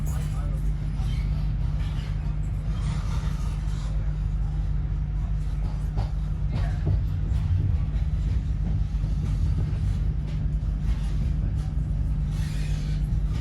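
A Chiltern Railways train runs on the London to Birmingham line as it approaches Birmingham Moor Street, heard from on board. A steady, loud low rumble continues throughout, with faint clicks and rattles over the top.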